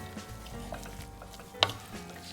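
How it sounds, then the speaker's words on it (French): Garlic sizzles gently in a pan for fondue while being stirred, a soft, low frying hiss with light scraping and one sharp utensil clink near the end. "Donc, toute notre ail qui va donner un très bon goût à notre fondue. Il faut un peu agiter pour pas que ça colle au fond."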